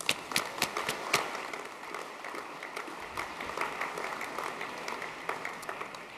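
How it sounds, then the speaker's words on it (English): Applause from an audience at an annual school sports awards night, a steady round of clapping with sharp individual claps standing out, moderately distant in a large room and lasting throughout. "give a round of applause to Brother Bill Tynan"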